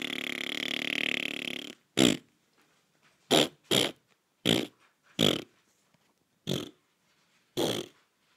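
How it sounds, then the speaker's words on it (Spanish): A long rasping fart opens, then a string of seven short, loud, separate fart bursts spaced at irregular intervals with silence between them. "Reúnanse y echar pedos conmigo."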